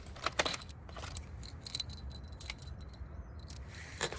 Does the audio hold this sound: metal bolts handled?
yes